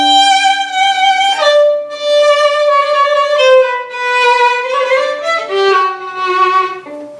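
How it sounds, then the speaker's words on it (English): Solo violin plays a flowing passage from Mozart's Violin Concerto No. 3 with delayed vibrato, a run of connected sustained notes in which each pitch begins straight before wavering, heard clearly and alone with no talk. "I'm gonna just play the whole passage that I played it with the sound with a delayed vibrato."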